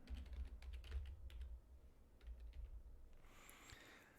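Quick, irregular keyboard typing close by, a steady patter of keystrokes over a low background hum, fading into quieter rustling near the end.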